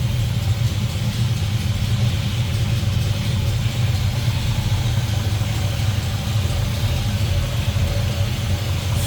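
A 1969 Chevrolet C20 pickup with a small-block Chevy V8 idles smoothly and steadily, a continuous low rumble heard up close with no talking.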